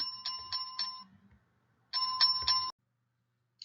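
A bright electronic chime rings in two bursts, each a quick pattern of ringing tones, separated by a short silence, with a faint blip at the end.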